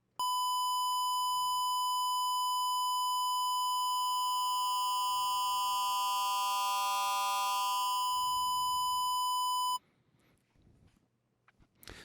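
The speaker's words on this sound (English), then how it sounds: "Let's see what happens if I start to just slowly bring up this level." FM synthesis in Ableton Operator with a sine carrier, as the sine modulator level is slowly raised: a steady electronic tone gains a rising stack of bright sidebands, holds for about ten seconds, then stops abruptly, leaving faint room noise.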